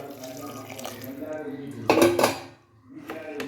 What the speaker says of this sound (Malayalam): ചൂടുവെള്ളം ചൂടുവെള്ളം കുറച്ച് ഒഴിക്കാം